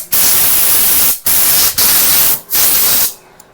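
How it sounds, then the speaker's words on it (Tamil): Cleaner sprayed in long hissing bursts into the fuel injector of a Pulsar NS160 BS6 motorcycle: three or four loud, close, broadband sprays separated by brief pauses, with no talk. "உள்ளே நல்லா ஸ்ப்ரே அடிச்சுட்டு"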